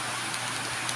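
Heavy rain falls on a house during an evening downpour, a steady broadband hiss with faint scattered drip ticks, continuous and unbroken.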